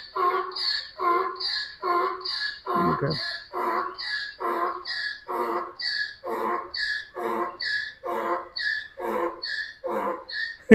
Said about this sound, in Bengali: এই দেখেন গাধার ডাক